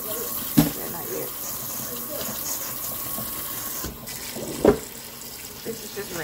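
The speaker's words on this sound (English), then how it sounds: "We are washing the sausage." Corn and sausage are rinsed under a kitchen tap, with steady running water close by, a couple of sharp knocks and splashes against the sink, and a soft voice at times.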